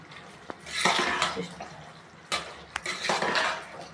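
A spoon stirs curry seasoned with coriander powder in a metal pot, giving scraping, clinking strokes in two bursts with a short pause between them, close and moderately loud.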